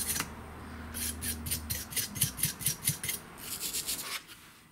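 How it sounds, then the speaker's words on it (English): A wire brush scrubs deposits off a weed trimmer's spark arrestor screen in a quick series of rhythmic, scratchy strokes, close and fairly quiet, with no talking. "just do the same thing with the wire brush. Just brush it all off."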